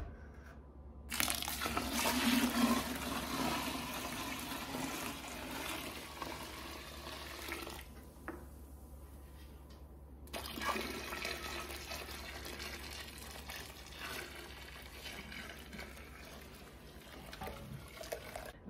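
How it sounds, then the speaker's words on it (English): Boiling water poured from a pot over elderberries and juice in a fermenter for homemade elderberry wine, a steady splashing pour in two long bursts separated by a brief pause, close and fairly loud. "we're going to pour that on top of the berries,"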